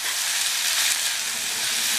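Sambar ingredients sauté in hot oil in a pan, giving a steady, close, bright sizzle that holds without a break.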